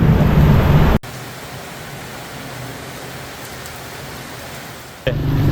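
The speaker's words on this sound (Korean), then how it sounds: "오늘은 태풍 사라졌다고 했는데 태풍 비가 계속 오네요." Heavy typhoon rain falling steadily outdoors in Hanoi, Vietnam, a dense continuous hiss with no talk, broken by sharp cuts at the start and end.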